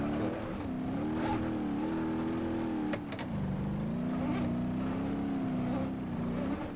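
Virtual car in BeamNG.Drive sliding back and forth on a road near a big rock formation, a steady droning engine tone with wavering pitch, loud and continuous with a brief dip around the middle.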